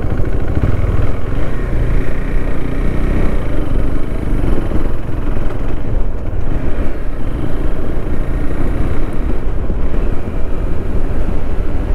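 A KTM 390 Adventure motorcycle is ridden onboard, its engine droning loud and steady beneath heavy wind rush across the microphone, with no talk.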